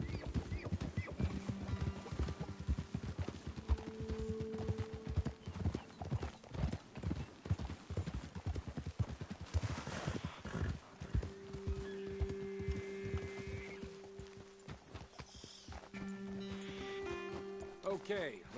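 Horses' hooves clip-clop at a steady walking rhythm as riders move along a trail in the Western video game Red Dead Redemption 2, close and continuous, with a horse whinny and voices talking over the hoofbeats.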